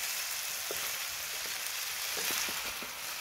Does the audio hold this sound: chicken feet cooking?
yes